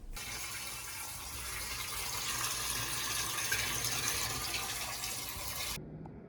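A bath fills with water from a tap, a close, loud, steady gush that grows slightly fuller before cutting off abruptly near the end, leaving a quiet drip.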